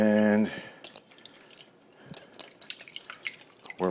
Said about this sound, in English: we're whisking the eggs.